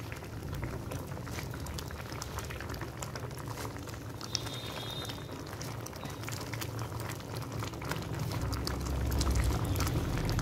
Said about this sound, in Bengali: পালংগুলো 5 মিনিট সেদ্ধ হতে দিয়েছি ডালের সঙ্গে